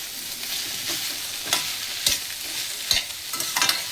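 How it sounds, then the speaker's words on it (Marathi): Sliced bitter gourd stir-fried with salt in a pan sizzles steadily while a spatula scrapes and taps the pan in several sharp strokes, up close, with no one talking. "आणि ह्याला आपण आता परतून घेऊया."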